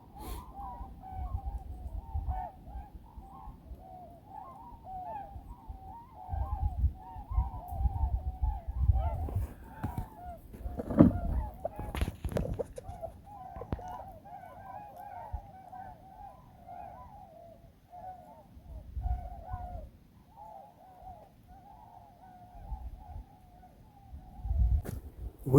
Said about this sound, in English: there are some snow geese, I think